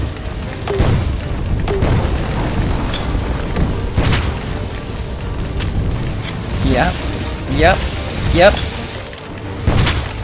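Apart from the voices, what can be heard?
grenade explosions in the video game Heaven Dust 2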